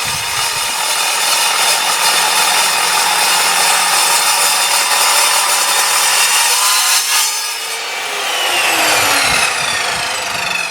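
An Evolution R210SMS 210 mm TCT multi-purpose mitre saw cuts through steel with a loud, continuous, harsh grinding whine; near the end the blade's pitch sweeps down as it spins down, then a short burst returns.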